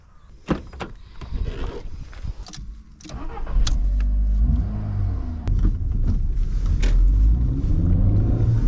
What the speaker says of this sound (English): So let's drive it round to MOT station.